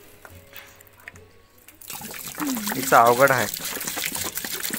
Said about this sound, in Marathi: हिचं अर्ध पाणी खालीच सांडते.